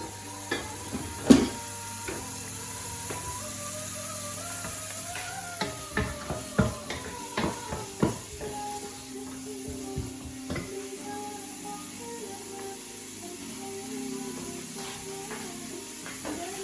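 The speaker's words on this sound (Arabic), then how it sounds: "نقلي الجزرات شوي" Sliced carrots fry in a pan, soft steady sizzling broken by a series of sharp scraping and clinking stirs from a utensil against the pan, with no talking.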